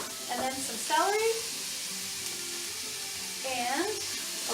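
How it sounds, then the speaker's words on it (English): Onions and celery sauté in olive oil, giving a steady soft sizzle throughout with occasional stirring clinks and scrapes in the pan, heard close up. "We're going to saute up our onions. A nice little sizzle, right?"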